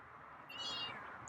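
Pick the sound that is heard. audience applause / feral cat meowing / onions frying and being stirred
feral cat meowing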